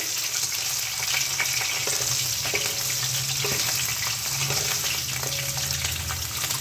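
Potatoes frying in a pan while being stirred, a loud continuous sizzle with intermittent scraping and clatter from the spoon, close up and without speech.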